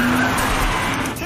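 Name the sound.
car driving fast with tires skidding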